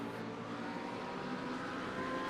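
A Porsche race car at Silverstone roars past with a sustained, buzzing engine note and a rising pitch sweep, loud and close throughout with no voices.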